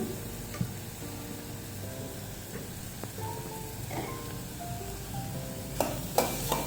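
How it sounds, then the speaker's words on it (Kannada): Ragi soup with pepper powder is mixed in a pot over low heat, giving a steady soft bubbling simmer with faint scraping stirs and a few light clinks, strongest toward the end, with no talking. "ಇದನ್ನು ಚೆನ್ನಾಗಿ ಮಿಕ್ಸ್ ಮಾಡ್ಕೊಳ್ಳೋಣ."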